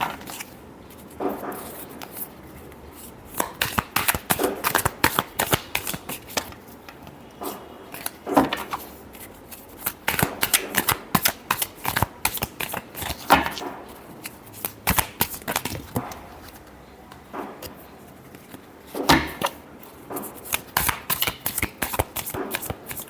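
Tarot cards are shuffled over and over, close by, in quick bursts of riffling and flicking separated by short pauses.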